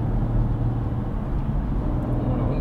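Steady low rumble of tyres rolling on the road beneath a BMW M440i xDrive Gran Coupé on Bridgestone winter tyres, a continuous, even drone heard from inside the cabin with no voices.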